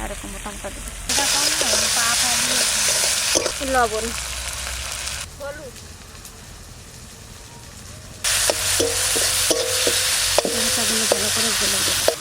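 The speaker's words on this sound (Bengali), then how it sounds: "পেঁয়াজ আর টমেটো ভাজা ভাজা হয়ে গেছে" Onion and tomato fry in a pan with a loud, steady sizzle while a spoon stirs and scrapes, the hiss dropping briefly midway before surging back. A voice talks faintly beneath it at times.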